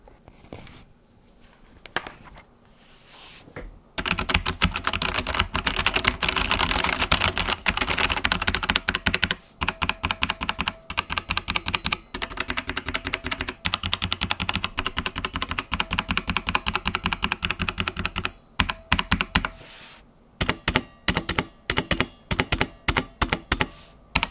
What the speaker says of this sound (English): I've done some audio recordings of the key sounds